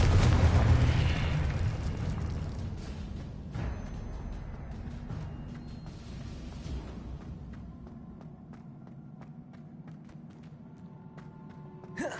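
A Confringo explosion spell in Hogwarts Legacy, a loud booming blast that opens the clip and then decays into a long rumbling tail, with faint scattered game effects.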